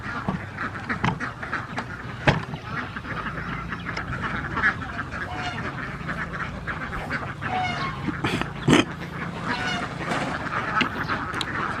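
Ducks being fed quack and honk repeatedly at close range, with overlapping calls and soft rustling of feed and movement around them.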